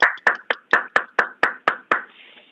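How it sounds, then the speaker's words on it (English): Applause after a pediatric robotics presentation comes through as a sparse run of about nine separate, evenly spaced claps, close and crisp, fading into a quiet tail with no talking. "The delayed applause."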